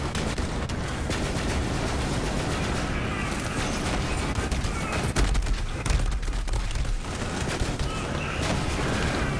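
Dense, continuous video game gunfire from a weapon with two firing modes, loud and unbroken throughout with heavy low rumble and overlapping bursts.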